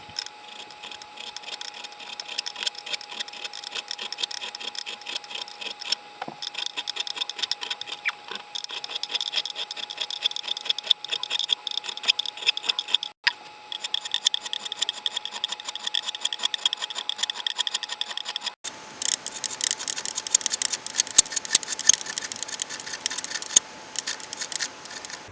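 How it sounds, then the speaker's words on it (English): A fret file works across the frets of a Guild guitar to crown them, producing a rapid, continuous, close scraping rasp that pauses briefly a few times before resuming. "So it's time to start working on these frets, getting these crowns set up on these."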